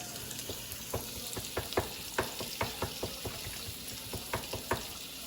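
Ribeye steaks sear in a hot skillet with a constant dense sizzle, close and steady, marked by short sharp pops and spatters in an uneven rhythm. No one speaks.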